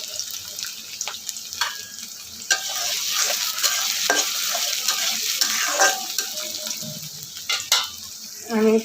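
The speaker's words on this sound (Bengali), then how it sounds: "পেঁয়াজটা ভাজা ভাজা হয়ে গেছে" Onions fry in a pan in a Bangladeshi home kitchen, with a crackling sizzle and frequent scraping stirs of a spatula, loud and close.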